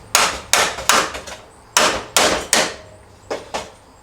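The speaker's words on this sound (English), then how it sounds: "sometimes you need a hammer to just kind of persuade these things a little bit" Sharp metallic hammer blows on a big copper stator land in uneven bursts, a couple in quick succession and then a pause, loud and close with brief ringing decay.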